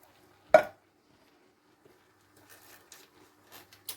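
A tin of chopped tomatoes lands in a chilli pan with one sharp, close clatter, followed by faint scraping and soft wet stirring noises.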